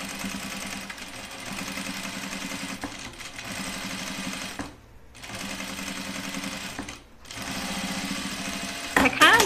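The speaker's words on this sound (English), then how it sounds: "let's top stitch this down" A sewing machine topstitches the edge of a lined jacket in long, steady mechanical runs, pausing briefly twice between bursts, close and fairly loud.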